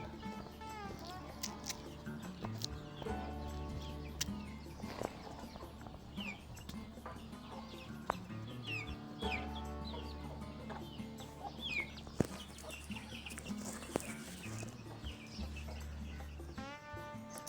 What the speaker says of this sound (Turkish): Tavuk daha burada.